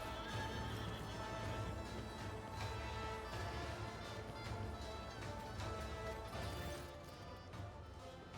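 A horse whinnies loudly over clip-clopping hooves and a backdrop of game music, with the neigh repeating and the sound dropping off near the end.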